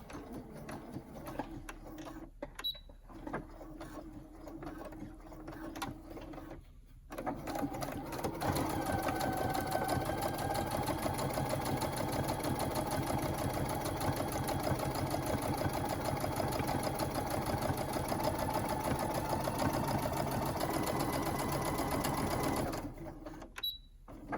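A sewing machine stitches a DIY fabric face mask, starting at the nose piece: short whirring bursts give way to a long, steady, moderately quiet run of stitching that stops near the end.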